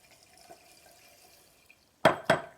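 Lye beads for cold-process soap are poured into water in two quick, close splashing bursts near the end. They follow a stretch of faint background noise.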